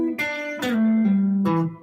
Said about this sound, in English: a little bit of a bluesy lick that ends in a chord